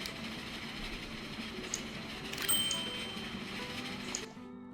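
Faint rail rumble and clacking from trains in the Transport Fever 2 video game, a low steady hum with a few small ticks and tones that cuts off near the end.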